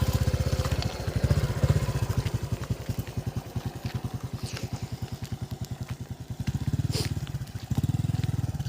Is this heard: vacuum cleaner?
no